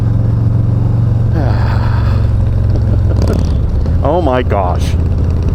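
A loud motorcycle engine revs under a bridge, its pitch climbing and falling in quick bursts over a steady idling rumble. A voice exclaims over it.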